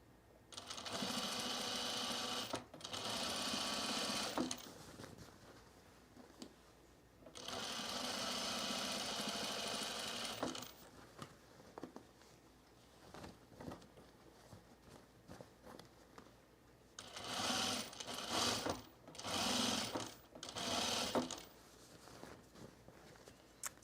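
A sewing machine stitches stretch fabric for summer pants in several loud, steady bursts of a few seconds each, separated by quiet pauses with light handling noises, the later runs shorter and choppier.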